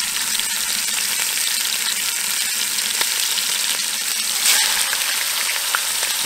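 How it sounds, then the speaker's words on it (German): Veal hip steak sears in a hot pan with a steady, bright sizzle of frying fat, constant and close throughout, with a few small pops and one louder spatter burst near the end. "Also kurz vorher salzen und dann können wir es braten."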